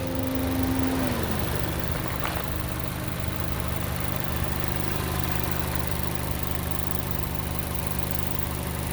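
A 2018 Mazda CX-5 Grand Touring with all-wheel drive idles steadily under an open hood, a smooth, even engine hum with a brief higher tone fading early and no talk.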